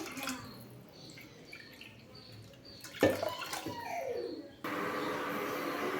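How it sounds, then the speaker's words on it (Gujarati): Six cups of water are poured from a vessel into two cups of dal lentils in a kitchen. After a few quiet seconds of faint handling clinks, a steady, fairly soft gushing pour begins and continues to the end. "આપણે એની અંદર છ કપ પાણી લઈશું"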